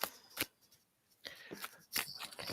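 Several quick papery riffles of tarot cards being shuffled, in short bursts with pauses between, close and fairly quiet.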